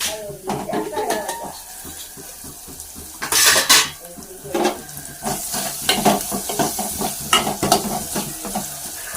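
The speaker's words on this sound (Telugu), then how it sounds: "దీంట్లో అయితే వేపుకొని వేసేద్దాం మొత్తం కలుపుకుందాం" Food fries and is stirred in a pan in a village home kitchen, with steady sizzling, scraping spoon strokes and clinks of utensils against metal, plus a loud burst of frying midway.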